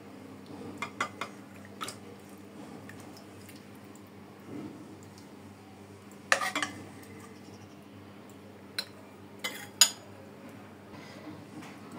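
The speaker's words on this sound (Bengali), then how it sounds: "বাটিতে পরিবেশন করে আপনাদেরকে দেখালাম" Beef and potato curry is spooned into a bowl in a quiet kitchen, with scattered metal spoon clinks against dishware and soft, wet scraping sounds.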